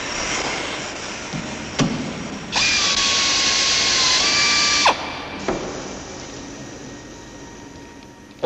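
A loud power drill whines steadily for a couple of seconds, stops, then starts and stops again in short bursts amid clanking workshop noise during aircraft battle damage repair.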